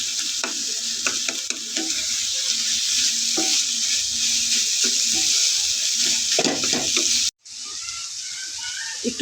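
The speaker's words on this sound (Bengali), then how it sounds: "সবজির সাথে মিলিয়ে দিব।" Egg and mixed vegetables stir-fried in a pan, a steady close sizzle with scraping stirs and spatula clinks throughout, cutting off abruptly near the end.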